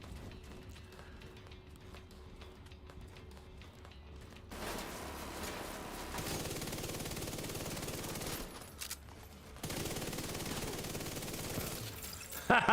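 Automatic gunfire from blind firing in The Division 2, rapid bursts of shots rattling in several loud stretches separated by quieter pauses, with mechanical weapon clicks between them.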